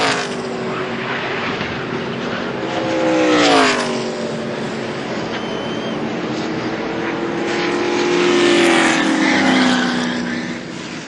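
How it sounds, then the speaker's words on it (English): NASCAR race cars screaming past at over 200 mph into a corner, loud engine whines sweeping in pitch as cars pass, with two surging peaks of roaring noise over a constant racing din. "These cars are going over 200 miles an hour getting into that corner."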